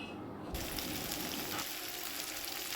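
Garlic and dried chilli dropped into hot oil set off a sudden loud sizzle that stays as a bright, steady hiss with faint crackles, close and without speech.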